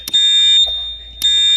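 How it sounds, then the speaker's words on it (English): A building fire alarm sounds loud and close, a shrill steady tone broken by a brief pause and then starting again, with no voices. "so you have your fire alarm on."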